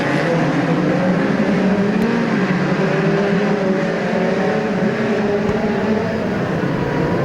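Midget race cars at the New Zealand Midget Championships at Ruapuna Park roar around a dirt track, a dense continuous engine drone with several cars overlapping at steady loud volume throughout.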